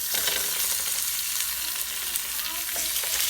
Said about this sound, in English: So now, you hear that sear?